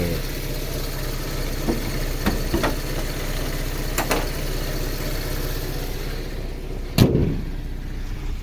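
A Toyota Corona Exsior's 1,600cc 4A 16-valve EFI engine idles with a steady low rumble throughout, broken by a few light clicks and a sharper knock toward the end.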